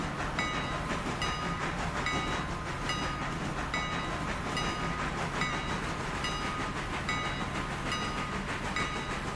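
A train running in the Simrail train simulator video game, a continuous dense rumble of wheels on track with faint regular clicking, steady and loud throughout.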